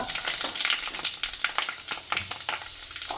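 Mustard seeds and fenugreek popping in hot oil, a quick irregular series of sharp crackles and spits over a soft sizzle, close and lively.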